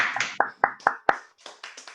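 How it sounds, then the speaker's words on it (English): Scattered clapping from a small online audience after a poetry reading: several sharp, separate claps in an uneven rhythm, followed by softer, blurred clapping rather than a full, continuous ovation. "Give Dianalee and Bernard a great round of applause"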